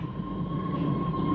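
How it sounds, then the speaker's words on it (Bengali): A train getting under way, a steady low rumble with a sustained high tone running through it, close and continuous with no voices. "ট্রেন চলতে শুরু করেছে।"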